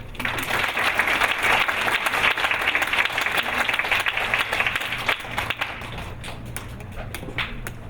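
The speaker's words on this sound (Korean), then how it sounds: "밤새워 월드컵을 응원하듯이 힘찬 박수 부탁드립니다." A university audience at an essay contest applauds loudly as a student presenter comes on stage. The dense clapping fades in the last seconds over a steady low hum.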